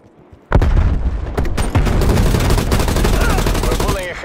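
A frag grenade thrown and a heavy exchange of gunfire in Call of Duty Black Ops Cold War team deathmatch, a sudden loud onset followed by rapid continuous automatic shots and booms.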